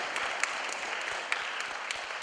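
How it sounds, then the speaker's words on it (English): A studio audience claps for a show participant, a brief, even patter of many hands at moderate distance, fairly quiet and steady with only a few sharper individual claps. "Give him a big clap."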